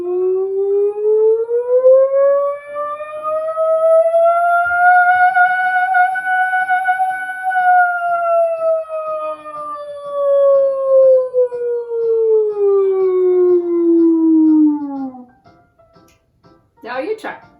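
A person's voice imitates a siren, one long smooth wail rising slowly and then falling over about fifteen seconds, loud and close, with a brief sharp noise at the end.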